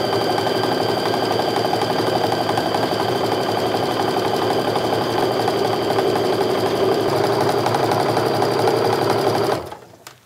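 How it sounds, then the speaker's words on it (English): A sewing machine runs steadily while chain-stitching strips of precut quilting fabric with a quarter-inch seam, a continuous close hum and rapid needle clatter lasting nearly ten seconds before stopping abruptly. "if I always sew where I'm lining up the edge of that presser foot with the outside of it"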